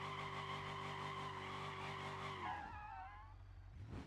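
A car drifting in the driving game BeamNG: a strained engine note holds steady, then drops sharply as tires squeal in a long, loud skid, followed by a brief rough scrape near the end.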